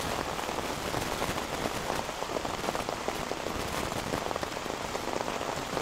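Rain falls steadily during an evening outdoors in New Hampshire, a dense, even patter of drops striking surfaces throughout, with no talking.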